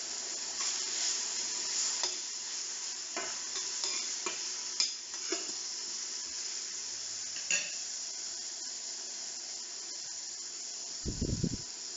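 Leeks and onions fry in a pan with a steady, close sizzle, broken by scattered light clinks and scrapes of stirring, and a brief low knock from the pan near the end.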